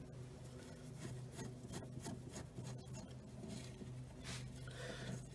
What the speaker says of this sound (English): on the back of the seat, I'm going to take these screws out.